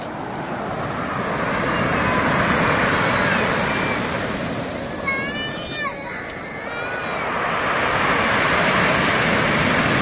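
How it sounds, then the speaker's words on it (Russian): Strong Black Sea surf after a storm roars steadily with rising and falling swells, while a brief voice cuts in partway through. "О, волны еще сильнее стали под вечер."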